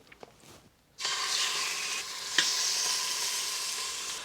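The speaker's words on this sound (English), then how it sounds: "I put the seasoned side down in the oil, so now I'm going to season the other side." Seasoned pork pieces set into hot oil in an Instant Pot, a sudden loud sizzle bursting in after a quiet second and holding steady, with one sharp clack partway through.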